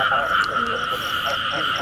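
Frogs croak steadily in a rice field beside a hospital in Soc Trang, Vietnam, a dense continuous chorus close to the microphone with a few louder calls poking through and brief faint voices.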